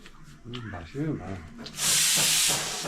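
A pressure cooker holding khichdi lets out a loud, steady high-pitched whistle of escaping steam in the second half, following a stretch of nearby talking.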